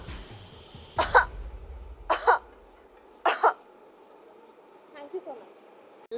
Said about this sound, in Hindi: अभी आपको 5 बार खांसी करना है